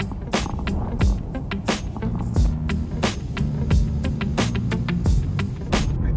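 Genesis GV70 SUV cruising on a highway during a long road trip, a steady loud road and engine rumble with repeated bumps and thumps from the road surface, no talking.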